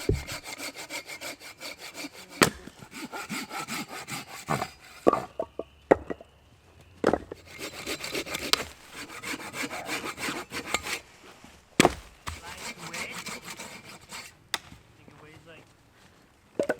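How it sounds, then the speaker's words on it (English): A hand saw rasps back and forth through firewood in steady strokes at a rainy campsite, pausing now and then, with a few sharp knocks between bursts. "I'm just gonna start sawing up all this wood"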